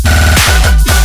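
Future riddim glitch effect with its trigger set later, a loud stuttered chop of dense buzzing synth broken by a few sharp swooping hits, short and without voices.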